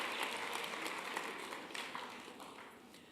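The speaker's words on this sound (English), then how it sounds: "Big round of applause for her" A big round of applause from a college opening ceremony audience, a dense steady patter of many hands that gradually softens, heard at a moderate distance.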